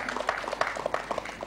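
An audience at an outdoor festival celebration on 8 August 2016 claps in a steady patter, mixed with crowd voices and cheers at moderate distance.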